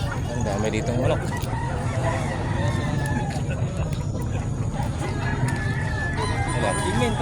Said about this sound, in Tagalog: Ang dami dito ng manok